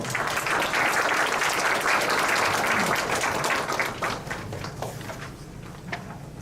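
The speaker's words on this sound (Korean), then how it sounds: "여러분 박수로 맞아주십시오." Sustained audience applause fills a Korean academic seminar hall as a presenter from a business employers' federation is welcomed to the stage, dense clapping holding strong for about four seconds before thinning and tapering off.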